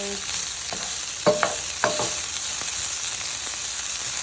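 Chopped onions sauté in a pan for a Hello Fresh Messy Jane meal, giving a soft, steady sizzle broken by a few sharp clinks and scrapes as a spoon stirs them.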